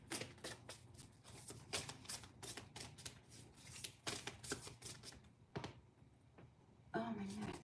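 Tarot cards shuffled by hand in quick riffling bursts and taps, fairly close, with pauses between the bursts and a brief voice near the end.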